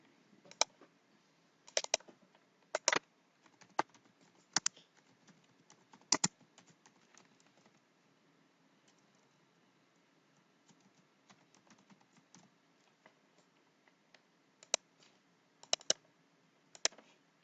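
Scattered keystrokes on a computer keyboard while entering spreadsheet values, with quick bursts of crisp clicks separated by quiet pauses, fairly faint and close.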